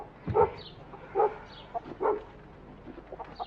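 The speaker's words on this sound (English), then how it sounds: "We'll go and see what that dog's up to." A small dog yaps in a few short barks spaced about a second apart, moderately near, in an English village setting.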